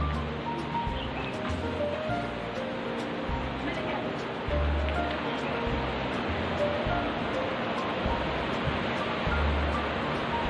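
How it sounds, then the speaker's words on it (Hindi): The Gaula river flows below a pedestrian suspension bridge, producing a continuous broad rushing murmur, with voices and low thumps mixed in over it. "गौला नदी की कलकल करती हुई ध्वनि सुनाई दे रही है।"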